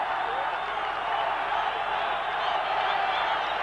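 A football crowd at a 1990 Colombia vs Soviet Union match, roaring in a broad, sustained swell of cheering and whistles that stays loud and even throughout.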